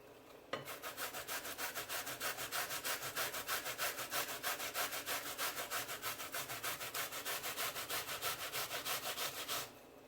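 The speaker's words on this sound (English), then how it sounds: "this is what it look like after you grater it" Food is rubbed quickly across a grater in fast, even back-and-forth rasping strokes, close and continuous for several seconds before stopping abruptly.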